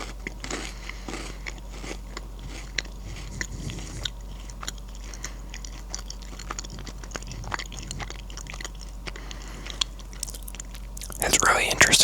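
Close, intimate chewing of a Thai snack, soft and supple rather than crisp, with repeated quiet bites and moist mastication, under occasional soft talk and brief rustles near the end.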